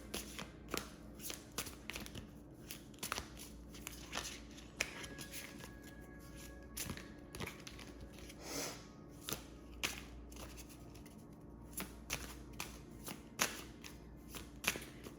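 Tarot cards shuffled by hand, a long run of crisp riffling and flicking with repeated sharp snaps, close and fairly quiet.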